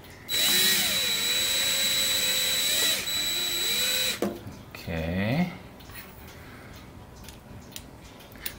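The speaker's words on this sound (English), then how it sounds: "Put my drill into low gear here." A power drill set to low gear whirs steadily for several seconds, stops, then gives a shorter rising spin, while work continues on a large clock build with quiet handling noises afterward.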